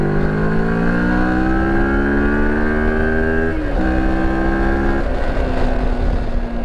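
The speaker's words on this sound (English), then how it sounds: "if you want to accelerate, you really got to spin the engine up" A Moto Morini adventure motorcycle engine revs hard while accelerating, its pitch climbing steadily through two gear changes with brief dips, loud and close throughout with no talking.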